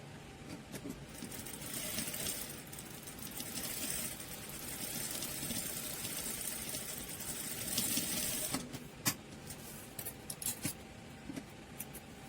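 A sewing machine runs steadily for several seconds, stitching the corners of a cotton cloth item made from floor-cloth sacking, then stops and leaves a few soft clicks and handling noises.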